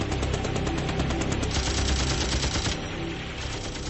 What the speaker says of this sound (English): his job, to attach his M60 machine gun to a bungee cord and fire